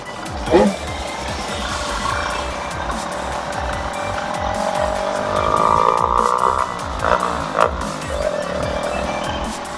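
A big Honda motorcycle pulls away, its engine rising in a revving, climbing tone amid loud outdoor noise, with voices nearby.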